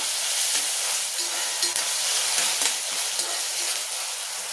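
Chopped onion and tomato sizzle in hot oil in a pan while cooking potato methi, a steady, close, loud frying hiss with small crackles throughout.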